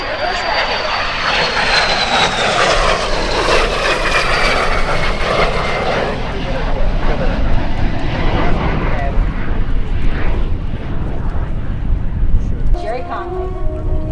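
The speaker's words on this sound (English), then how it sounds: "Jerry Conley, DeHavilland Vampire." A de Havilland Vampire jet warbird roars past at the EAA AirVenture Oshkosh airshow, a loud sustained engine rush that swells and fades over the field, with an announcer talking over it throughout.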